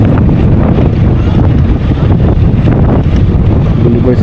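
Strong wind at a seaside boulevard by a lighthouse in General Luna, Quezon, buffeting the microphone as a loud, continuous low rumble with gusty swells throughout.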